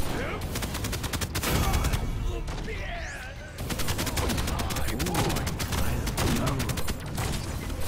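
Rapid gunfire, taken to be a shotgun, in the team shooter video game Paladins: dense bursts of sharp repeated shots with brief pauses, layered with other game effects and a few whooshing sweeps, loud and continuous.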